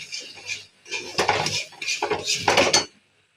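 Semolina cooked with milk in a pan, stirred continuously so a spoon scrapes and clatters against the metal in several loud close bursts, then stops, with no voices.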